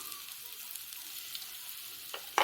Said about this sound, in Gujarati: જીરું આપણું સરસ એવું તતડી જાય એટલે આપણે અંદર એડ કરવાના છે બટેકા